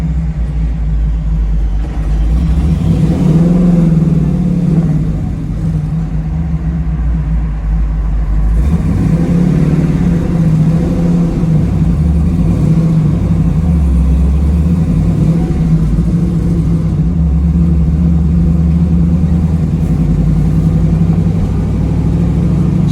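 A 1968 Chevrolet Camaro RS/LS restomod on a test drive, its engine a steady loud low rumble from inside the car, rising and falling with acceleration and shifts throughout, no talking.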